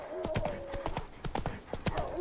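Roach, Geralt's horse in The Witcher 3, clip-clops along with steady, fairly close hoofbeats in a quick rhythm over a faint low ambient bed.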